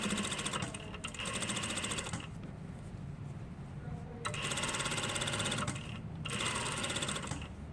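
Domestic sewing machine stitching through layers of fabric, a steady rapid mechanical whir and clatter in several bursts with brief pauses between them, close and fairly loud with no talk.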